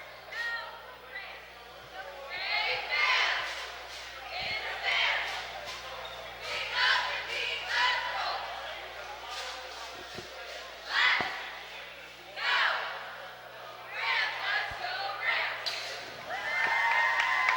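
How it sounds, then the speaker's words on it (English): Crowd cheering and chanting in a high school gym as varsity cheerleaders rally during a boys basketball game, loud bursts of voices and some thuds under a commentator talking. "Cheerleaders doing a good job here, cheering on the squads"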